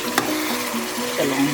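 Chicken qorma with garam masala sizzling in a pan: a brief, steady frying hiss with one sharp clink near the start, nobody speaking.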